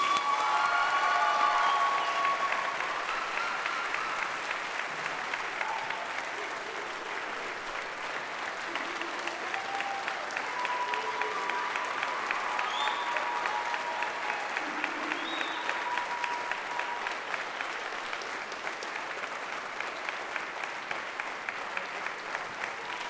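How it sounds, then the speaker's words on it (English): Audience applause for students at a university white coat ceremony for physician assistant studies, sustained dense clapping across the whole stretch, strongest at the start, with faint cheering mixed in. "give them a big round of applause"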